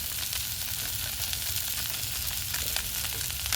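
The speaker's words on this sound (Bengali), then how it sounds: "ভালো করে আর একটু ভেজে নেব।" Fish frying in a pan of hot oil gives off a steady, dense sizzle that crackles without a break, close and fairly loud, with no voices.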